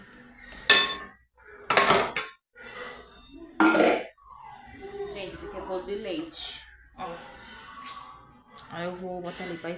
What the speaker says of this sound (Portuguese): Agora eu vou lavar essa louça.